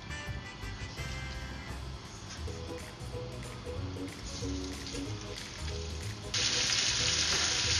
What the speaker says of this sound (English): I'm just browning our meat